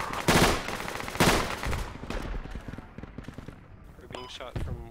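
Bursts of gunfire from the military video game Project Reality, with loud close shots early and quieter rapid fire later, mixed with game noise and some voice.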